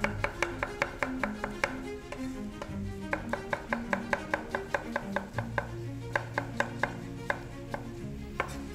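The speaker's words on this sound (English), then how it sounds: "Now I'm gonna cut some onion, throw it in there." Onion is cut with a knife on a board, a brisk run of sharp, evenly spaced chops up close, pausing briefly and then carrying on.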